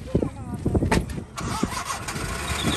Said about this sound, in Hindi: चलो स्टार्ट करो गाड़ी।